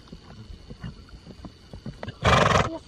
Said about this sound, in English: He's been snorting a lot too.